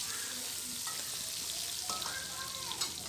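Chopped carrot and capsicum fry in a hot pan with a dense, steady sizzle and a few faint scrapes of stirring; the sound is close and continuous, with no talk.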